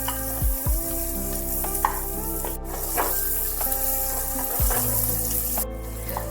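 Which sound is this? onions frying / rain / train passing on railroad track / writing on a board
onions frying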